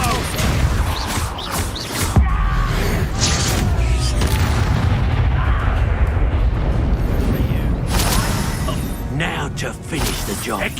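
Hogwarts Legacy combat with an Expulso explosion spell: a dense, continuous wash of booming blasts and crashing impacts, loud throughout with sharp bursts near the start and end, under a voice shouting spell names.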